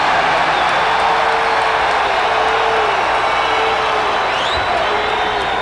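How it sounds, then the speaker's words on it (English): Basketball arena crowd cheering a foul call on Michael Jordan during a Chicago Bulls at Cleveland Cavaliers regular-season game, a broad steady roar of fans with faint whoops, loud and continuous throughout. "I think the fans were cheering there because they called the foul on Michael Jordan"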